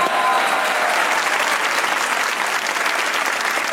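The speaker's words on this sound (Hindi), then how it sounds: "इनके लिए तालियां बजाएंगे एक बार।" A studio audience claps loudly and continuously at a Pakistani comedy talk show taping, a dense, even wall of applause close up that holds from start to finish.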